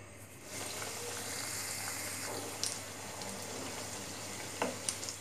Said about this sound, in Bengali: তেলটা গরম হয়ে গিয়েছে, এখন আমি একটা একটা করে পিঠা এখানে দিয়ে দিচ্ছি